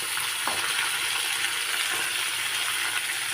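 Tomatoes fry in a pan of hot oil while sambar is being made, a continuous close hiss and sizzle with a few small clicks and stirring sounds, steady throughout.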